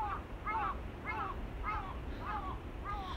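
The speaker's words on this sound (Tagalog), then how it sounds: "Feeling ko bahayan to ng mga uwak." Crows caw six times in a steady, evenly spaced series, moderately distant, over low wind rumble near a beach.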